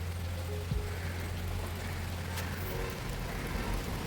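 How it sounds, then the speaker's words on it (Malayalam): Steady rain falls in a continuous hiss, with water pattering on a surface close by; a low hum runs underneath for the first few seconds and no one speaks. "ടും ടും ടും വെള്ളം വീഴുന്നത്"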